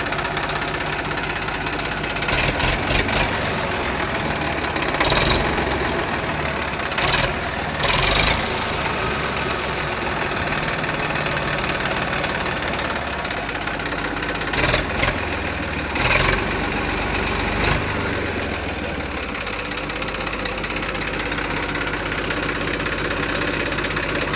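An Eicher 380 tractor diesel engine idles steadily nearby with a constant chugging rumble, interrupted by a few brief sharp clicks and bursts.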